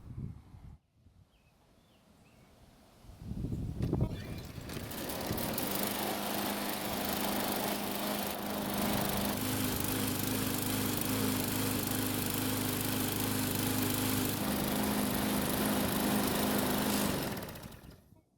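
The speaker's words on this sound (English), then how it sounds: "Next, we'll try and start the engine" A small, over-primed lawn mower engine cranks and catches after a few seconds, then the mower runs loudly and steadily at close range before cutting off near the end.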